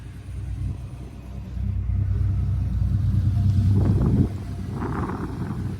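A deep, steady rumble from a 2006 Dodge Ram 1500 SRT-10 pickup's engine with throaty exhaust, swelling louder for a few seconds before settling back to a lower idle.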